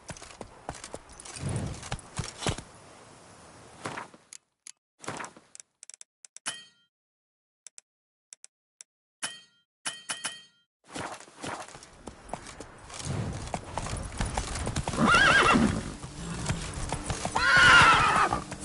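A horse in The Witcher 3 clip-clops with rhythmic hooves and whinnies, bursts of hoofbeats broken by near-silent gaps, then building to a sustained, louder gallop toward the end.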